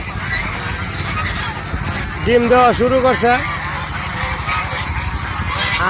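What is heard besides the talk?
geese honking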